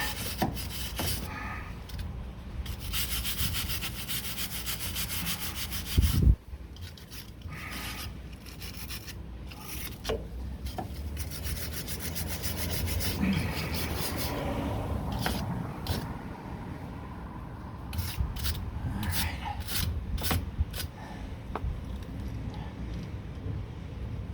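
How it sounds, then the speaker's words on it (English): A wire brush scrubs rust off the suspension of a 1969 Corvette in repeated rough rasping strokes, close and fairly quiet, with pauses and an occasional metallic knock. "take a wire brush to all this. Clean it up a little bit."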